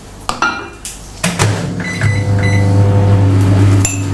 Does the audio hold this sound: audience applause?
no